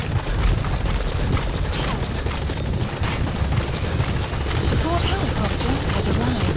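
A helicopter's thudding rotor in Metal Gear Solid V: The Phantom Pain drones steadily under busy game noise, close and loud, with some faint chatter mixed in.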